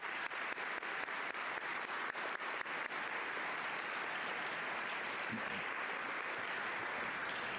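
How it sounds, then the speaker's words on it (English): Sustained applause from a graduation audience at Mandela International Magnet School, steady, dense clapping that fills the hall at an even level from start to finish, with no voices standing out. "So let's give them all a round of applause."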